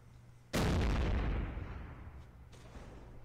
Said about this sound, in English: Go throw that grenade out over there.